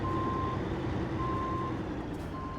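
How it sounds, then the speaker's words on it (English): Reversing alarm of a W990 truck in the Snowrunner video game, a steady electronic beep repeating at an even, slow rhythm over a continuous loud engine rumble. "let's do the W990 first, because this one also has a backup alarm"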